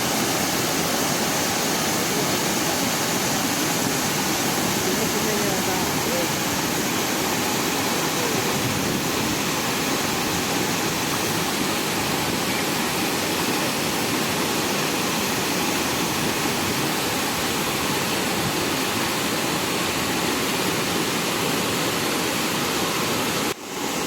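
Water pours through reservoir gates at the Telugu Ganga reservoir in Andhra Pradesh, a steady, loud broadband roar like a waterfall that holds unbroken for the whole stretch with no voices.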